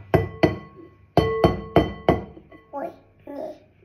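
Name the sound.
trying to crack an egg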